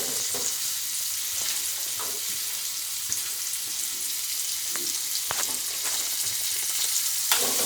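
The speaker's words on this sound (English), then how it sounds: "As it is being frying, I am going to add the onion." Red chilies and onion fry in a pan, giving a dense, continuous sizzle with scattered crackles and a few stirring scrapes, close and alone without speech.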